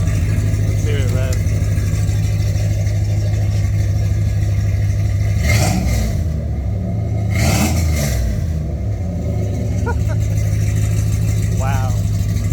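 A 1998 Jeep Grand Cherokee 5.9 V8 with a new exhaust rumbles steadily at idle, then revs up loudly twice with a throaty exhaust roar before settling back.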